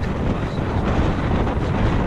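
Strong force 4-7 gusting wind at Scalpay buffets the microphone in a continuous low rumble, with no talking and no clear pauses between gusts.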